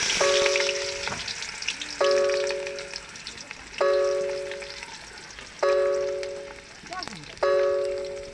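Onions fry for biryani cooked on a rooftop, a steady hiss heard under a series of repeated ringing, chime-like tones that arrive about every two seconds.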